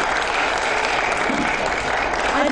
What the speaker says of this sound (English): Everyone, please join me in thanking Joe.